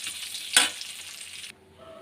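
Shrimp and potato sizzle in hot oil with cumin and bay leaf, a steady close frying hiss with one sharp spatter burst. The sizzle cuts off abruptly near the end.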